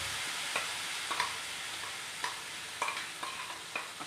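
Ground dosakaya (yellow cucumber) pickle paste frying in hot oil with asafoetida and curry leaves, a steady soft sizzle with occasional stirring clicks and scrapes, close and alone without talk.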